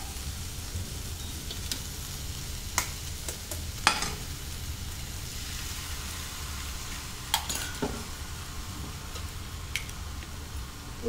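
Drumstick greens fry with egg in oil in a pan, with a steady sizzle underneath and a few sharp clinks and scrapes from stirring scattered throughout.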